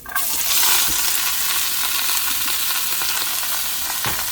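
Vegetables for beef bourguignon sauté in a pot with a loud, steady sizzle and occasional stirring clinks, and no voices over it.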